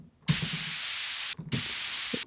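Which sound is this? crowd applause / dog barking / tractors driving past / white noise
white noise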